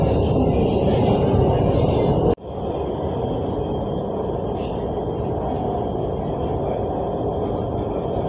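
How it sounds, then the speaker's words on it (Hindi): Inside a passenger train carriage near Lahore, the train pulls away with a steady loud rumble and rattle of wheels, a sharp bump early on, then continuous rolling noise with faint voices in the background. "अभी ट्रेन जो है अपनी मंजिल की जाने रवाना हुआ"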